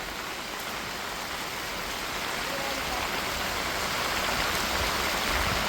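Strong wind and heavy rain in a storm make a loud, continuous broadband rush that swells slightly toward the end, with no distinct drops or gusts standing out.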